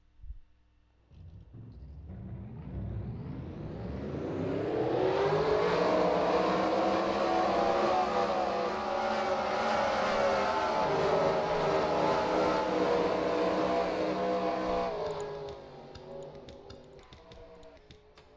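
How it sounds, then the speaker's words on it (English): Race car engines from a racing video game at Nashville Superspeedway rise in a steady revving drone as the cars roll off, holding a loud, sustained roar before cutting off sharply near the end. "now let's get the cars rolling off"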